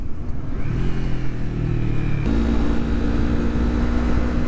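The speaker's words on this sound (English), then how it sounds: "MT03 rides pretty well. I mean, it's a fun little zippy bike" A 2020 Yamaha MT-03 motorcycle engine hums while riding, its pitch rising as it accelerates, dropping with a gear shift, then climbing steadily again, loud and close under wind noise.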